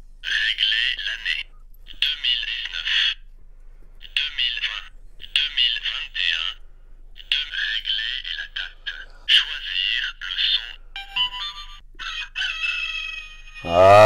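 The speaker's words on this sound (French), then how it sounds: "le fameux coq." A touchscreen watch plays a tinny electronic rooster-crow alert from its small speaker, repeating in short crowing bursts separated by brief pauses, with a few softer clicks and a rising tone near the end.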